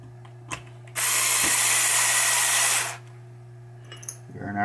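Electric screwdriver driving screws partway into a 1976 Bally Captain Fantastic pinball playfield during a pop bumper rebuild: one loud close whirring burst of about two seconds, with a steady hum underneath and soft clicks of handling before and after.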